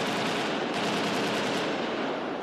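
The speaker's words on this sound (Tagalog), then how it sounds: "umalingaw ang mga unang putok ng baril na tila nagmula sa direksyon ng Manila Peninsula" Sustained rapid gunfire rattles continuously during the Manila Peninsula Hotel siege, a dense, steady burst heard from some distance with no voices.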